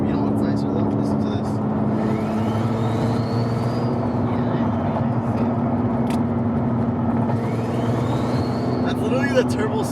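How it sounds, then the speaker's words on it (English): A turbocharged Nissan 350Z drives along with a steady engine drone and faint rising turbo whistles that sweep up twice, close and fairly loud, while people talk inside the car. "Look at the turbo spooling. It's so loud."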